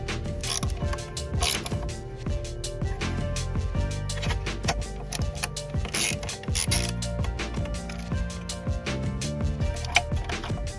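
A hand ratchet clicks steadily and close up as it backs four 10 mm nuts off the cruise control box on a Mitsubishi 3000GT VR4 in an engine bay, with rapid pawl ticking bursts and small metallic knocks throughout.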